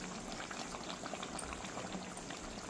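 Tamarind fish curry gravy simmers with green chillies in it, giving a steady, dense bubbling that runs evenly and fairly close throughout, with no talking.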